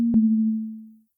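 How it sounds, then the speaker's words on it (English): A single pure synthesizer sine wave tone in Ableton sounds once and sustains, steady and clean with a soft click near the start, then fades out smoothly after about a second. "we just start with a sine wave,"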